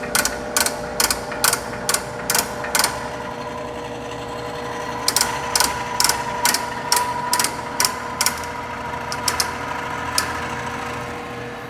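Feed mechanism of an Extrema 36-inch planer sander running at a higher feed speed, giving a steady mechanical whir broken by regular, sharp clacking ticks in two evenly spaced bursts, close and moderately loud with no talk.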